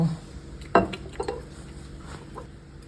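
A utensil clinks and scrapes against a pan while shrimp curry stir-fry is mixed, with a few brief knocks over a low background hum.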